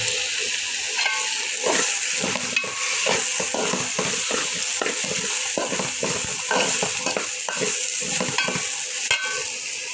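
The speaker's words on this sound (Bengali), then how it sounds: "ডালটা ভাজি করে নিতে হবে সুন্দর করে আমি ডাল দিয়ে দিলাম" Lentils sizzling and frying in a pan with a bay leaf, a steady hiss broken by repeated scraping stir strokes, close and continuous with no talking.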